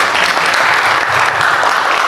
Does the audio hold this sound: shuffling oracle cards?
no